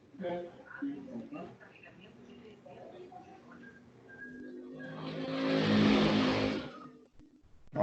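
A motorcycle-like engine revs loudly in a single sustained burst of a couple of seconds, swelling and then fading, heard after and partly over a voice talking during a digital illustration class.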